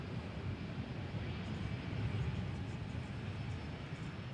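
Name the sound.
American Airlines Airbus A320 airliner at DFW Airport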